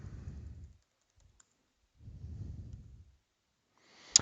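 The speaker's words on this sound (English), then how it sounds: "If I can type the password correctly." Keys on a computer keyboard as a password is typed, heard as two soft, muffled bursts of low tapping separated by silence, ending in a sharp single click, close and quiet with no voice.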